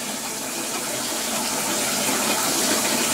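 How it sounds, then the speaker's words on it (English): Shower water running in a bathroom, a steady even hiss of spray falling throughout, close and fairly loud with no talking. "Let's hit the showers."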